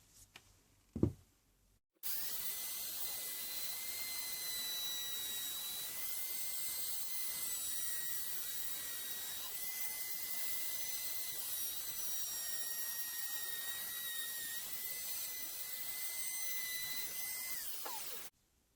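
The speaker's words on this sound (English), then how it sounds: "I'm going to use my little Katsu trim router just to put a round over on the edge" A small Katsu electric trim router whines steadily at a high pitch for about sixteen seconds after a brief knock, rounding over a wooden edge, running continuously close by.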